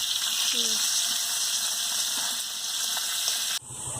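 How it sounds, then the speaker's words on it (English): Food sizzles steadily in a hot frying pan, a loud continuous hiss that cuts off abruptly near the end. "Let it fry for a while"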